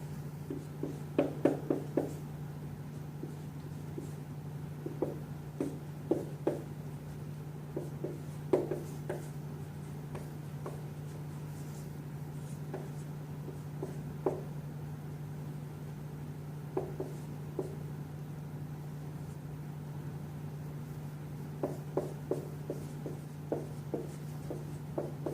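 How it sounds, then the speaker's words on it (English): A pen writes numbers on paper in short scratchy bursts, close and quiet, with pauses between strokes over a steady low electrical hum. "So let's write in all those numbers."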